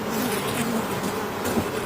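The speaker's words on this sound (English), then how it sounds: "We want to have as many bees as we can to make honey." Honey bees at a honey farm in North Carolina, a steady dense buzz of many insects close by, with no talk.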